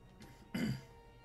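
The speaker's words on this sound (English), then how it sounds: "Sorry if I'm like clearing my throat." A single throat clearing during a basketball video game session: a short, rough, fairly close burst that fades quickly, surrounded by quiet room sound.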